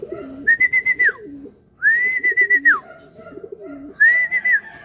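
Whistling, pulsing calls ring out in three bursts at a racing pigeon loft as a bird returns from a 104 km Padre Burgos midtoss race. They sound fairly close and clear, with no talk.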